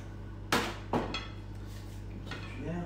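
A fresh herb sauce with mint, salt and pepper is stirred in a bowl, giving a few sharp utensil knocks and clinks against the dish followed by softer scraping, close and fairly quiet.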